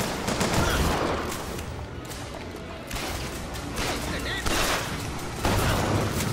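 Rapid gunfire from a weapon in the video game Bioshock Infinite, bursts of shots layered with game effects and someone commenting in Spanish throughout.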